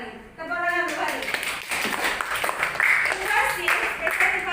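A classroom of sixth-grade students claps for a classmate, a dense burst of hand claps running throughout at steady loudness, with voices and cheering mixed in.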